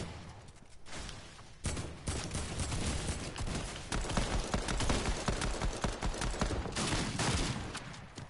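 Rapid bursts of gunfire in a Fortnite match, loud and dense, with sustained volleys of shots piling on each other across most of the stretch.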